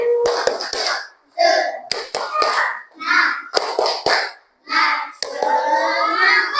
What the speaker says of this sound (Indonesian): Tepuk semangat, berdiri dulu semua, berdiri.